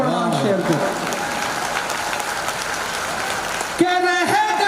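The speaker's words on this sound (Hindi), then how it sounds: "कमजोर ताली बजा रहे हैं" Audience clapping at a Hindi-Urdu poetry recital, a steady patter of applause of moderate strength filling most of the moment, bracketed by a voice speaking at the start and again near the end.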